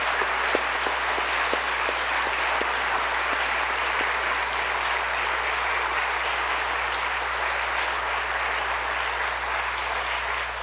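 Steady audience applause at a 9/11 commemoration ceremony at the Nixon Library, a dense, even wash of clapping that continues throughout at constant loudness, with a low steady hum beneath it.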